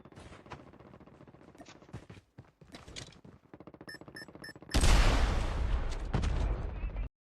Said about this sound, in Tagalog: Parang lumalapit na yung gunshots.